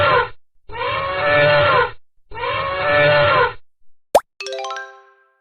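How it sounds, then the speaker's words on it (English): Cartoon elephant calling with two long, loud, rasping trumpet-like blasts, each about a second long, followed by a sharp pop and a ringing boing, with no speech. "elephant,"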